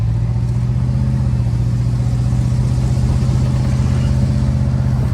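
The engine of a 1969 Chevy Impala drones steadily on a test drive, a loud, close, even low rumble with a constant throb that continues without pause and with no talking.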